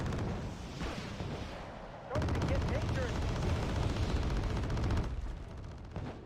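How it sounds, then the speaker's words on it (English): Aircraft bombing strike in the war strategy game Wargame: Red Dragon, with a continuous, loud roar of overlapping blasts and crackling gunfire that thickens midway through, then eases off. "Big old bombing strike coming in here from all these aircraft"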